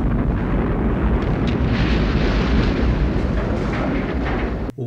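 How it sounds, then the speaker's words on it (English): A large fiery explosion in the 1981 film Mad Max 2: The Road Warrior, a loud sustained rumbling roar that fills the whole stretch before cutting off abruptly. "Oh wow, look at that explosion. That's so beautiful."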